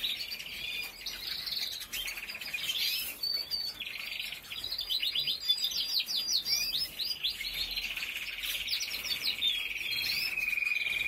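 A young songbird, a fledgling, sings a busy stream of high chirps and warbling trills with brief pauses, close by and fairly loud throughout, with no talk.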